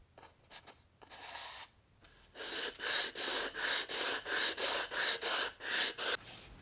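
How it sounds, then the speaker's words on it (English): Two halves of a wooden box are lapped flat on a surface, making a close, rhythmic series of rasping rubbing strokes, about a dozen even back-and-forth passes after a few slower initial scrapes. "I gently lapped both halves of the box on here just to true up the surfaces and make sure they fit well"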